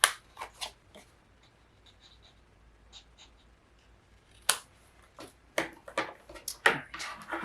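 Scissors trim paper for a mini album, giving a few soft isolated snips early and then a quicker cluster of sharp close cuts, with quiet gaps between and no voices.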